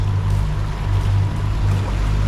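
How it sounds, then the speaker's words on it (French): A sailboat motors from Prickly Bay toward Saint-Georges with its engine running, a steady low drone and hum with water wash and wind noise continuing throughout. "Petit voyage au moteur ce matin."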